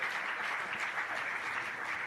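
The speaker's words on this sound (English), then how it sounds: "So please join me in applauding the wonderful minister" An audience applauds a minister at the close of a session at the Raisina Dialogue 2026 conference, a dense, steady wash of clapping that stays loud and even from start to finish with no voices over it.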